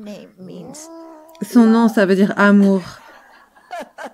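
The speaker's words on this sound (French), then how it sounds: "Ici, c'est mon petit chat." A small pet cat gives drawn-out meows and a wavering, caterwauling cry, close and loud, while someone speaks French.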